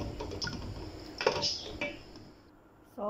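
Crabs are stirred in coconut milk in a cooking pot, giving light metallic clinks and scrapes of a utensil against the pot, a few taps spaced apart, fairly quiet.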